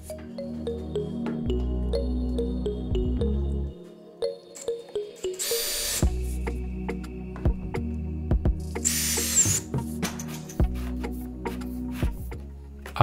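A power drill drives screws to temporarily fix wooden runners to a table saw crosscut sled, with two sharp bursts of fast whirring among steady workshop noise and background hum.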